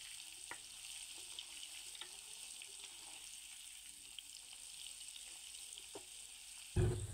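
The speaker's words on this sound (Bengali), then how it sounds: "ওই জন্য তেলানি পেঁয়াজ ভেজে নিচ্ছি।" Onions frying in oil for a curry, a steady faint sizzle with occasional soft stirring clicks, ending in a brief louder clatter.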